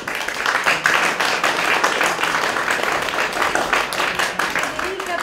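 An audience applauds steadily at an award ceremony in a historic town-centre gallery, a dense, continuous wash of clapping lasting several seconds with no break.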